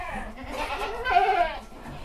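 A goat bleats on a goat farm, a wavering, drawn-out cry that swells in the middle and trails off, moderately close and standing alone without speech.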